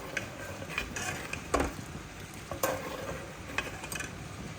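Mango kheer with sugar simmering in a pot: a low bubbling hiss under intermittent spoon scrapes and clinks against the pot, fairly quiet, with no talk.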